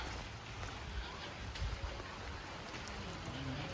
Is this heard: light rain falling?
yes